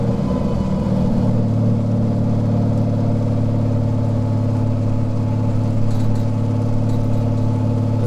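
A VW Golf engine running on an EMU Black ECU holds a steady 2,000 rpm, giving a continuous even hum with a deep low drone, close and constant, with no talk.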